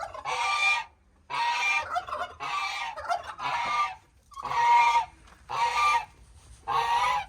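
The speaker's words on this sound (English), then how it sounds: "That's one fussy goose right there." A goose honks in seven loud, harsh bursts separated by short pauses, close by, with faint background noise between calls, on a homestead during an Arctic cold snap.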